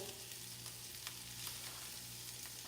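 Crumbled seitan frying in a hot pan, a steady dense sizzle with faint scraping stir sounds, no talking.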